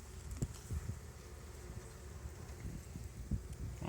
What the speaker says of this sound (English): Shake the bees off of it if you have to.